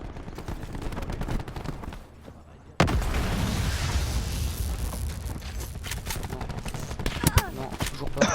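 Rapid KN assault rifle fire in Black Ops 4 crackles in dense, continuous bursts, breaking off briefly near the middle before resuming loud and close amid other game effects.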